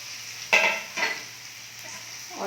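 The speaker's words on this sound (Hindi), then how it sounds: "और ये बैंगन हम कढ़ाई में डाल देंगे इस तरह से" Stuffed brinjal dropped into a hot kadhai, giving two sharp bursts of sizzle a moment apart that settle into a low, steady frying hiss, with a faint scrape near the end.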